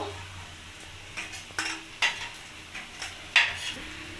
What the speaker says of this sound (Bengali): মুইঠাগুলোকে একটু লাল করে ভেজে নিতে হবে উল্টে পাল্টে